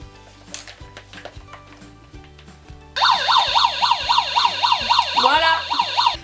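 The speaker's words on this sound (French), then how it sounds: "pour vous faire plaisir, avec la petite alarme au-dessus" Wailing siren alarm on top of a drinking helmet, a loud rapid warbling tone that switches on abruptly partway through and keeps cycling, after quieter background music.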